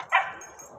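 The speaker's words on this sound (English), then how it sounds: "My puppy wants to go inside." A puppy gives a single short, sharp yip close by, followed by fainter whining trailing off in a quiet indoor room.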